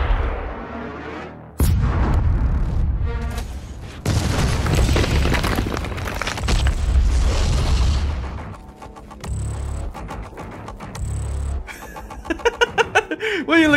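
A cannon fires with a heavy boom in Doom Eternal, followed by rumbling blasts and roaring explosion noise that stays loud for several seconds. Later come sharper metallic clanks and a rapid burst of short impacts.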